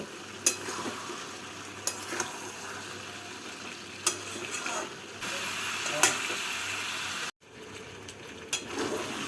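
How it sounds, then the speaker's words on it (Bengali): Mixed winter vegetables stirred in a pan to dry off their water, a low steady sizzle with occasional scraping strokes of a spoon, fairly faint and close, with no talk. "এবার নাড়াচাড়া করে সবজির মধ্যে যে জলটা আছে সেই জলটাকে শুকিয়ে নেব"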